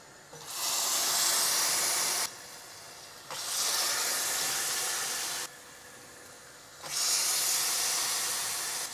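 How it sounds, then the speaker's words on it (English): A loud, steady sizzling hiss of chiroti dough frying in hot oil swells and drops in three long waves, close and continuous with no voices. "I'm rolling the next round up for the frying"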